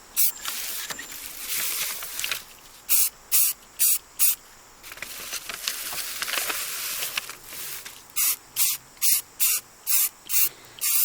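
Aerosol spray paint applied as a final coat to a three-tier dessert stand: close, loud hissing bursts, a few longer sprays followed by a rapid run of short, evenly spaced spurts.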